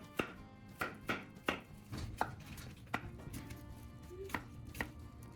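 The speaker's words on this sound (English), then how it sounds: "After that, chop them into smaller pieces" A knife chops the firm parts of spoiled apples into smaller pieces on a board, with about ten irregular, fairly quiet taps that sound close.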